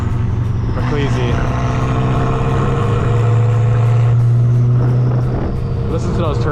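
A turbocharged car engine drones loud and steady with tonal engine pitch that rises and falls slightly, a person talking over it throughout.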